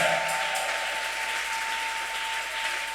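A church congregation applauds the Lord, sustained dense clapping from many hands filling the room evenly, steady and moderately loud from start to finish.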